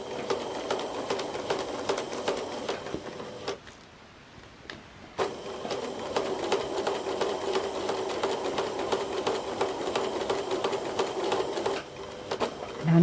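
Sewing machine back-stitching the points of a quilt star, a steady close whirring hum that runs continuously, drops away briefly near the start, then resumes and carries on to the end.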